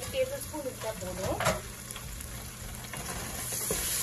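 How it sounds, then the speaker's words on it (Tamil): Ginger garlic paste sautés in a pan while prawn biryani masala is being cooked, giving a soft, steady sizzle with light stirring scrapes close by. "ஸோ இதை நம்ம நல்லா வந்து வதக்குவோம், நல்லா மிக்ஸ் பண்ணி விட்டுக்கோங்க."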